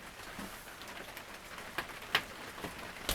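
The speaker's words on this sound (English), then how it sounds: "It's raining." Rain falls steadily outside a shed in November, a soft constant hiss with scattered louder drips and taps, faint and close, with a bird cooing quietly in the background.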